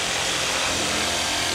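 A power saw cuts through fiber cement cedar shake siding with a loud, continuous, close grinding whine that holds steady for the whole moment with no pauses.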